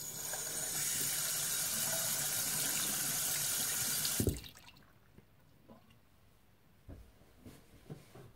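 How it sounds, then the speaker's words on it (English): A bathroom tap runs steadily for hand washing, a loud, hissing stream that stops abruptly about halfway through. A few faint drips and handling clicks follow in the quiet. "I'm just gonna wash my hands."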